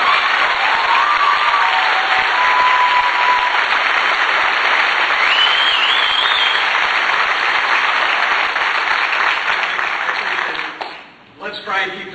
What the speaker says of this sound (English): Let's try and keep the applause to a minimum